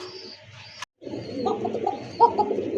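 A pigeon sitting on its eggs coos softly in a few low, throaty phrases, close by, after a brief silent gap and some faint background noise, with no speech.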